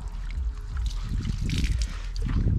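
A car wash mitt is sloshed and rinsed in water close by, with uneven splashing, dripping and squelching for a few seconds.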